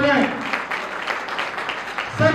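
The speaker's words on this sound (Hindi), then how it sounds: "एक बार बेटियों के लिए जोरदार तालियां बजाएं।" Applause breaks out for the winning daughters at a student talent award ceremony, with dense clapping running steadily under a voice that starts and ends the short burst.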